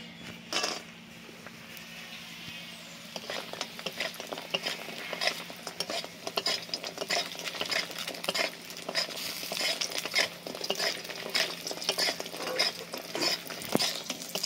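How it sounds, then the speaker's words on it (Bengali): Lentil bori frying in a pan for a Bengali rohu fish curry with potato, a steady sizzle with stirring and clinks of a utensil against the pan, close and continuous throughout, no talking. "এবার বড়িগুলো ভেজে তুলে নেব।"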